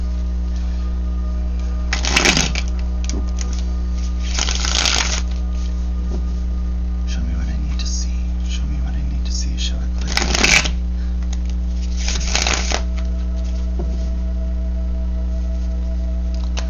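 Tarot cards are shuffled in several quick riffling bursts spaced a few seconds apart, with quiet handling between them over a steady low hum.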